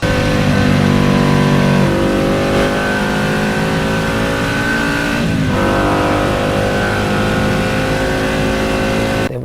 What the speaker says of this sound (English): It was the most beautiful sound coming out of a motorcycle I had ever heard.